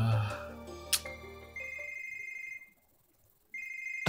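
A phone rings in the Another Code Recollection video game, a bright electronic ringtone tone that holds, cuts off, then returns, heard over quiet game sound with no talk.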